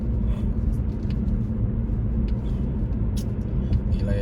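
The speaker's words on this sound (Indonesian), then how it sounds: "Lihat tuh mobil pelan-pelan" Cars roll slowly along a 50 km/h road, a steady low traffic rumble with engine drone filling the whole stretch, no voices over it.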